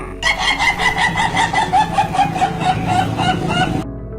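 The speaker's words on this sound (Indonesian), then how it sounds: "diketawain ayam kamu Bong." A chicken clucks loudly and rapidly up close, a steady rhythmic cackle lasting several seconds before cutting off abruptly.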